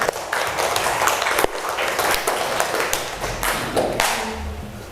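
Students in a classroom give a burst of applause, brisk close handclaps that run for several seconds and taper off near the end.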